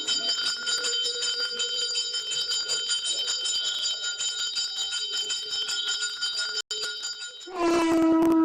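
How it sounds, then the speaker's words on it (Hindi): Temple bells ring on their own, a steady, sustained metallic chiming that fills the whole stretch, broken by a brief gap and closing with a louder new tone. "मंदिर की सारी घंटियां खुद ब खुद बजने लगती हैं।"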